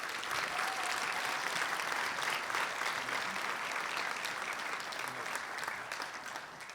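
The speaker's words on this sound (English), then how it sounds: "A round of applause for them as well." An audience at a scholarship awards celebration applauds donors with sustained, dense clapping that fills the room evenly before tapering slightly at the end.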